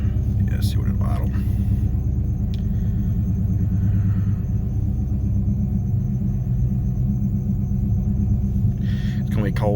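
A cold 1995 Ford Mustang GT engine idling in a low, steady rumble with an even pulsing beat, close and constant, while a person talks quietly and briefly over it.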